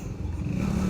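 A motorcycle revs hard during a wheelie on a highway, its engine note rising and growing louder across one short continuous burst.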